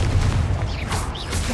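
Bombarda explosion spell cast in Hogwarts Legacy, a single short, loud, booming blast with a rumbling low end, no voice over it.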